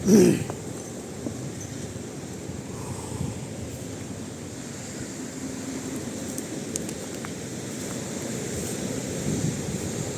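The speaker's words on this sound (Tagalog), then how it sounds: "Ang laki ng alon." Big ocean waves roll onto the shore in a steady, broad roar, with wind rushing over the microphone throughout and no clear breaks between swells.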